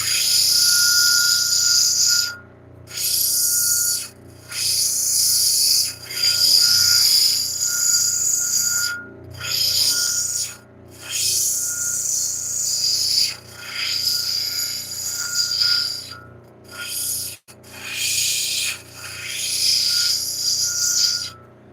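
Flint and larimar with natrolite ground into a cabochon on a lapidary wheel, giving a steady high rasping hiss in long passes broken by short pauses as the stone is lifted, with a constant motor hum beneath.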